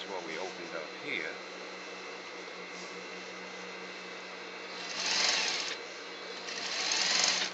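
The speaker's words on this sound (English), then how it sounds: "And I'm going to stitch it up 3/4 of an inch." A sewing machine stitches a tailored jacket's shoulder seam in two short bursts of steady whirring, rising against a faint background hum, with quieter handling noise earlier.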